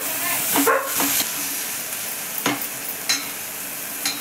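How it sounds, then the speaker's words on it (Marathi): Masala paste being sautéed in oil for a Maharashtrian amti, with a steady soft sizzle and a few sharp stirring scrapes of a spoon against the pan, close and alone without talk. "एवढं असं वाटणाला चांगलं तेल सुटेपर्यंत परतायचं"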